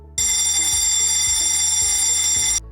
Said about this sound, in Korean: 비상 경보 설비는 화재 발생 시 발신기 버튼을 누르면 경보음이 울리도록 설계된